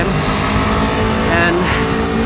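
An Aprilia Tuono 1100 V4 motorcycle engine drones steadily and loudly on a hill-climb road, with a dense, unbroken roar that swells slightly midway. A voice talks faintly underneath.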